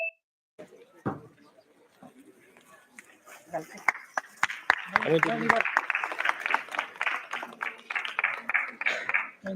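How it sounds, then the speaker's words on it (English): Applause from an audience at a plenary session of a disability and human rights event swells into dense, sustained clapping after scattered early claps, with voices heard beneath it. "A big round of applause, please."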